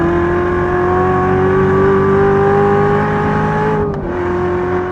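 A 2015 Chevrolet Corvette Z06 with a seven-speed manual gearbox and Z07 aero package accelerates hard on a race track, its 650-horsepower engine holding a loud, steady rising drone before a brief dip as the next gear is caught.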